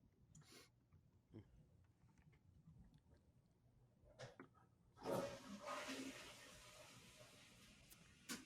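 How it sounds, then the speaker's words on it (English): A toilet flushes in another room, a distant rushing swell that starts partway through and keeps running to the end, preceded by a few faint knocks and room sounds. "I think I just heard his toilet flush."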